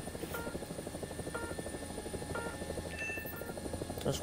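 In War Thunder, a Tiger UHT helicopter's rotor beats in a steady, rapid thumping pulse under a continuous turbine whine, close and constant throughout.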